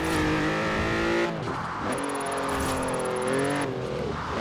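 A BMW i8 in Forza Horizon 4 drifts hard, its engine droning loud and close with rising and falling revs as the car slides through the turns, with a brief dip in the note partway through.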